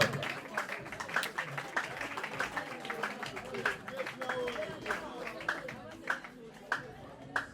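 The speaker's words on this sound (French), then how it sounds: "Veuillez vous lever s'il vous plaît sous les applaudissements de l'assistance" Wedding guests at a customary marriage ceremony applaud as the couple's relatives rise, a steady patter of many hands clapping at moderate distance, with voices murmuring and a speaker talking over it.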